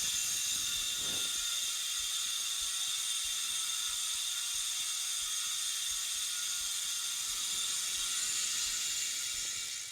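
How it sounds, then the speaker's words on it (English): A Hope Pro 5 bicycle hub laced to a DT Swiss FR541 rim freewheels with a dense, steady, high-pitched ratcheting buzz of rapid pawl clicks that holds loud and constant for about ten seconds. "you can hear the sound of the Pro 5 hub"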